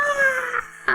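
A voice imitates an eagle's cry with a high, thin, wavering screech lasting under a second, close and fairly loud, followed by a short second squeal.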